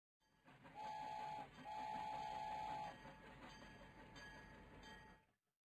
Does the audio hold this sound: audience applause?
no